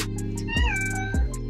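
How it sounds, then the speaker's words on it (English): A cat meows at a delivery driver: one clear, close, rising-and-falling meow over a steady background hum. "Did this cat just say hello to the delivery driver?"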